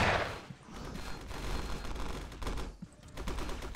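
Gunfire from both sides in the VR shooter Alpha Mike Foxtrot, a dense, continuous crackle of shots at moderate level with scattered louder bursts, all without talk.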